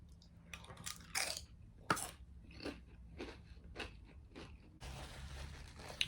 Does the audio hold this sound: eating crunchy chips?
yes